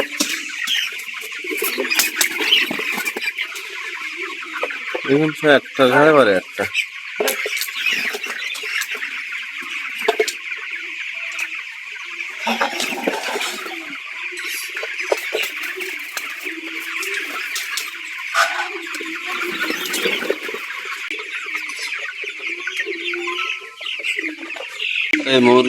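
A crowd of farm chickens in a net-screened poultry house cluck and squawk continuously, loud and close, with someone talking intermittently over them.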